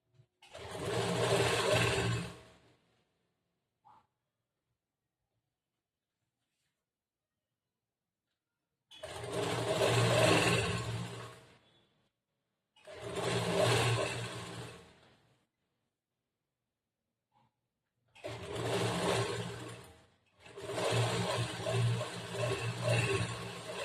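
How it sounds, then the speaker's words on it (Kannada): A sewing machine stitches a churidar top in five separate runs of a few seconds each, loud and close, with silent pauses between them while the fabric is realigned. "ಜೋಡಿಸ್ಕೊಂಡು ಮತ್ತೆ ಸ್ಟಿಚ್ ಮಾಡ್ಬೇಕು."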